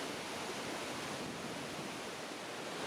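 The Awash River plunges down a waterfall into a deep gorge, a steady, unbroken broadband roar of falling water, fairly faint and distant, with no voices.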